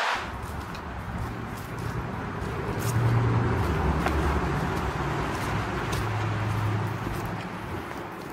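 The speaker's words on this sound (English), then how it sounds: "Highway 4 is beside me on the left, up on the cliff, and so you can hear traffic noise in this area." Traffic on Highway 4, up on a cliff beside a trail, makes a continuous broad roar of passing vehicles with a swell in the middle and low engine rumble underneath, steady and moderately distant.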